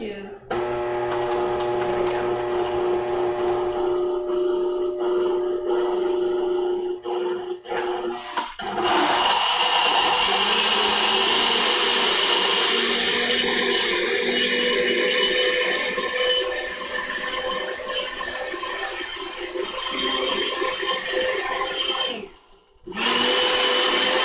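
A blender whirs in loud pulse bursts, its motor shifting pitch between pulses, with a short pause near the end; speech is mixed in.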